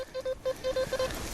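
A metal detector held over a very small coin gives a series of short, quick, pure beeping tones in an uneven rhythm, close and fairly loud, with soft rustling beneath.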